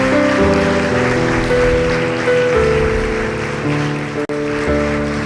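A church congregation breaks into loud, sustained applause, a dense wash of clapping that fills the room steadily, with a sustained musical tone underneath, and stops abruptly near the end.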